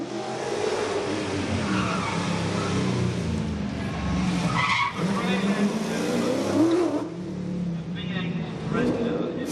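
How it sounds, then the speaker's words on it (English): A Ford Sierra RS Cosworth rally car on the Castletown stage of the Isle of Man historic rally, its engine droning loud and steady with rising revs and tyre noise, continuous throughout and under a dense crowd-like wash. "the unique sound of the Firenze through the Castletown stage"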